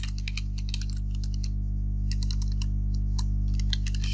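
Quick clattering keystrokes on a computer keyboard as commands are entered, irregular bursts of close, crisp clicks with short pauses between them, over a steady low electrical hum.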